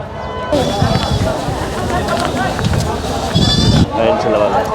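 Goats bleat repeatedly at close range at a livestock purchase, several animals calling over one another amid shuffling and background voices.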